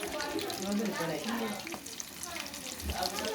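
Fish frying in a pan in a home kitchen, giving a steady, dense sizzle that runs throughout, close and fairly loud, with some faint clatter and background voices mixed in.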